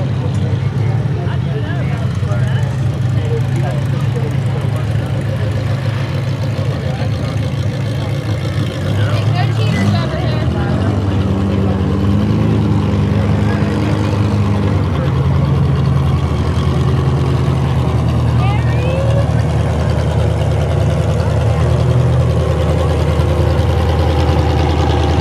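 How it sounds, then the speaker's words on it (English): Several demolition derby cars idle at a recheck area, a steady low rumble of engines running continuously and fairly loud throughout, with a deeper engine note swelling partway through and people talking underneath. "a few cars coming over here for recheck"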